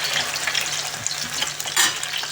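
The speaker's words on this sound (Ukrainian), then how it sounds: "І смажимо з іншої сторони до золотистої скоринки." Loud, dense sizzling of potato pancakes frying in oil in a pan, a constant crackling hiss with scattered pops, close up and uninterrupted.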